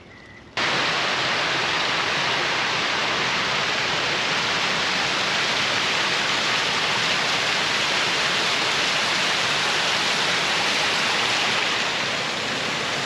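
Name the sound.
water feature fountain in Chapultepec Park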